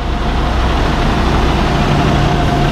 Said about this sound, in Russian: Жек, у тебя тоже ровно двигатель работает хорошо.